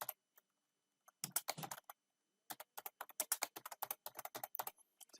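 Someone types an address into a computer keyboard, producing a run of quick, close, crisp key clicks that come in irregular bursts with short pauses, heard on their own without any talk.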